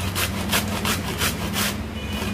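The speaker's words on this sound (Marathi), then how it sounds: "तर मी आता हे किसून घेते" Green cabbage is grated on a hand grater, making rhythmic rasping strokes about every quarter second, close and steady.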